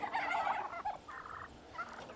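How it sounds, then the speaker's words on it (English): A noisy gang of farm turkeys gobble in repeated rattling bursts, fairly loud and close, with overlapping calls from several birds and no talking. "I wanted to introduce you guys to the gobblers there"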